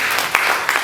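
A church congregation gives a brief burst of hand-clapping during a Sunday service, even and close, lasting under a second.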